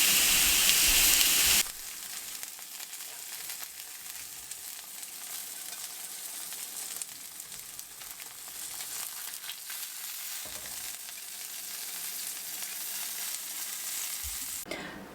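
Salmon fillets sizzle steadily in a hot cast iron pan for a honey garlic dish, a continuous close hiss of frying with a brief louder burst at the start and no one speaking.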